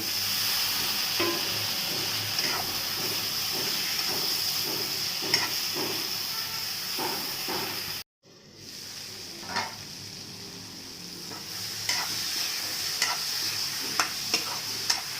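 Garam masala, black pepper and potato fry in a pan for a fish curry, with a continuous close sizzle broken by regular scraping stirs. The sound drops out for a moment midway, then the sizzle and stirring return.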